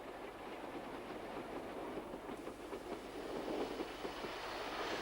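A 1950s British Railways steam train, a Black 5 locomotive ahead of a rebuilt Scot, passing on a main line with a steady rushing roar and rhythmic wheel clatter throughout, fairly close and continuous.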